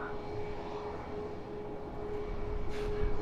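A Ryanair Boeing 737 MAX 8 airliner departing Edinburgh Airport for Sofia gives a steady, broad engine roar from a distance, holding even throughout with a slight swell near the end.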